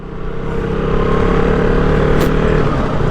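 A KTM motorcycle shifts up through its gears on the quickshifter with no clutch, its engine droning loud and close and steady on a busy city road, with a brief sharp clatter partway through.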